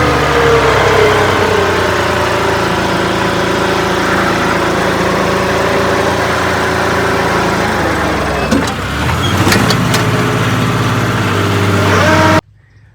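A John Deere tractor engine drives a rotavator under load, a loud, steady, close drone whose pitch sags briefly near the end before the sound cuts off abruptly.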